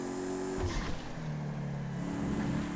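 Bullet car in GTA FiveM revving its engine, a close droning tone that bends and swells with throttle changes and a short burst of acceleration, moderately loud with no talk.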